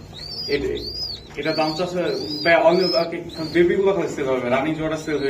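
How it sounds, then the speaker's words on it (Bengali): Budapest pigeons kept with their chicks coo repeatedly in close rising and falling calls, while people talk over and between the cooing throughout. "এই যে বাচ্চা সহকারে কবুতর আমি দেখাই দিলাম"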